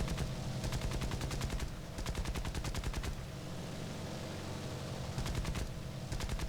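Rapid machine-gun bursts from fighter aircraft in War Thunder air combat, several long rattling strings of fire with short pauses between, over a constant engine drone.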